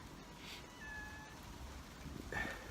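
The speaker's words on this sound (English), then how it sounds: "this cat won't leave me alone" A domestic cat meows softly twice, a thin short call early on and another near the end, faint and close in a quiet outdoor spot in Japan.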